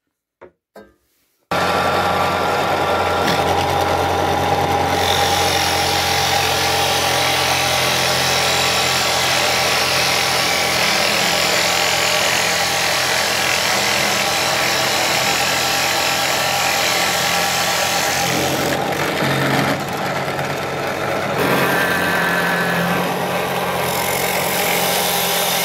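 A hole saw cuts wheels from wood for a handmade wooden toy car, a loud continuous motor whine and grinding that starts after a couple of faint taps and runs steadily close by, briefly easing near the end.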